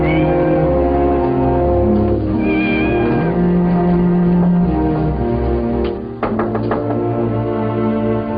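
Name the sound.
cat meowing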